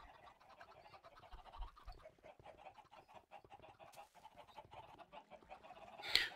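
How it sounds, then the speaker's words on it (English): Minecraft chickens cluck and squawk in a busy, continuous flock, a faint, low-level scatter of short calls throughout, with one sharper squawk near the end. "once again we've got 3 loads of chickens."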